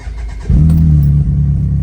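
A BMW K1100 motorcycle engine swapped into a Hillman Imp cranks and catches with a sudden loud burst, then settles into a throaty, steady idle with a brief rise in revs, heard close and alone.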